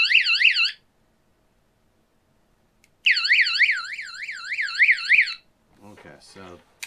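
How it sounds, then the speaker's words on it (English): Electronic alarm from a survival box gadget, a loud warbling siren-like tone in two bursts, the second about two seconds long, followed by a brief voice. "I guess that's an alarm"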